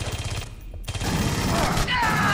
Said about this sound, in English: He is shooting me.